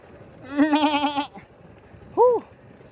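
A goat bleats in a long wavering call, followed after a pause by a shorter, higher bleat, moderately near on a quiet rural roadside with faint background noise.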